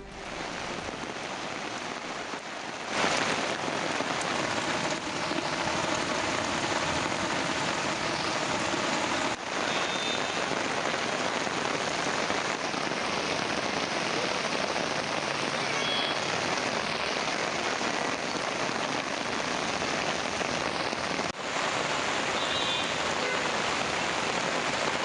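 Heavy rain pouring down on a Hyderabad street, a loud, dense and steady hiss of rainfall that drums on surfaces throughout, with faint traffic noise buried underneath and no talking.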